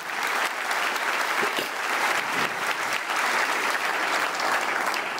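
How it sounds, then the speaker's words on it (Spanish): A church congregation applauding during a Spanish-language sermon, a full, continuous burst of many hands clapping together, loud and sustained from start to finish with no voices rising above it. "dele un aplauso a Dios con todo su santo corazón"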